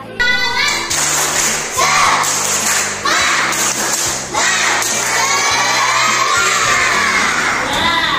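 A class of children chants and shouts together in a loud, energetic rhythmic cheer, with bursts of clapping in a patterned beat and voices rising and falling throughout, close and continuous.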